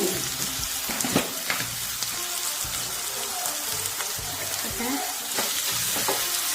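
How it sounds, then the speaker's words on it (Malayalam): Chopped onion with salt sautés in a pan, a close, steady sizzle crackling like light rain, with a spatula stirring and scraping at an irregular rhythm. "ഇതാ നമ്മൾ അരിഞ്ഞ് വെച്ച ഉള്ളി ഇട്ട് കൊടുക്കുകയാണ്."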